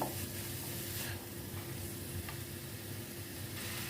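Vegetable kabab mixture frying in a pan, a steady moderate sizzle running unbroken throughout with faint stirring scrapes and no voices.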